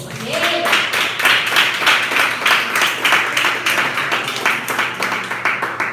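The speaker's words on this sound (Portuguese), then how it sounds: "Aplauda o nome do Senhor." A church congregation at a conference afternoon session claps in a steady, rhythmic beat, many hands striking together at an even pace with faint voices mixed underneath.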